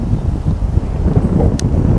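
Strong wind buffets the microphone beside a fishing lake at Barston Lakes, giving a continuous, close, low rumbling roar with no talk.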